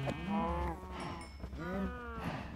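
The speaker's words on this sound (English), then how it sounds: "I don't kill the cows that have babies right beside them" Cows in the video game Minecraft moo several times in a row, long low calls that sit close and clear, with no talking over them.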